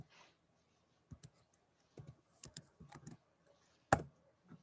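Keys on a computer keyboard tapped out in scattered bursts of clicks, fairly close and quiet, during an online meeting, with brief pauses between keystrokes and no talking.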